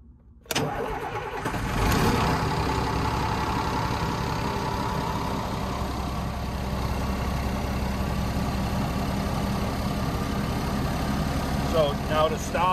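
A Cummins ISL 400 diesel truck engine cranks and fires up after a brief quiet moment, then settles into a loud, steady idle close by.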